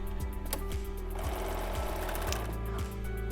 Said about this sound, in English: I serge back onto the quilt through all the layers.